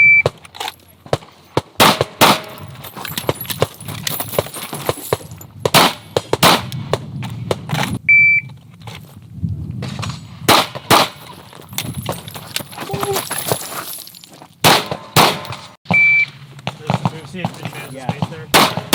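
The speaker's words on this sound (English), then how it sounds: "once I'm set to where I can shoot, then I take my shot" Sharp gunshots at training targets during a shooting practice session with two targets and a reload, firing in irregular bursts of loud cracks at close range with a person talking between and under the shots.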